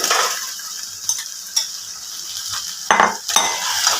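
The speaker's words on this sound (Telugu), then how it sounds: "ఇప్పుడు మంచిగా కలుపుకోవాలి" Deep-fried chicken 65 is stirred in a hot pan, with intermittent scraping and clattering strokes of a utensil over a soft, continuous sizzle.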